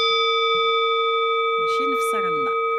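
A singing bowl of the kind used in Asian healing therapy rings with a steady, sustained pure tone and overtones throughout, while faint voices speak over it partway through.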